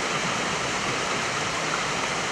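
Jhelum river water crashing over stones at a waterfall in Dulai, Kashmir: a steady, dense, broadband roar of rushing water, constant and enveloping without pause.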